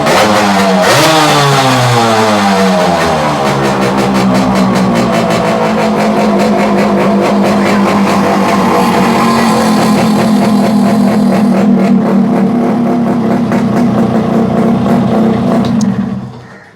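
A fully restored 1999 Yamaha RX135 five-speed two-stroke motorcycle revs loud and close, its engine rising and falling through repeated throttle blips before it settles into a steady high drone, with no talk over it.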